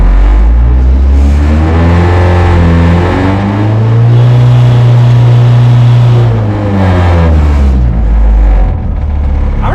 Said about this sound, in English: Let me rev it again.